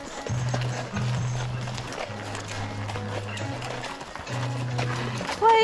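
Steady clip-clop of horse hooves at a walking pace under ongoing conversation, with a brief high-pitched sound at the very end, during trail horseback riding at a dude ranch in Pigeon Forge, Tennessee.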